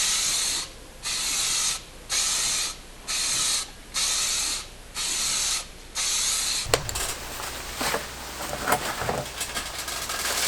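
Aerosol spray paint hissing as a BMW M50 valve cover is painted black, in six regular bursts about a second each with short gaps, followed by clattering handling noises.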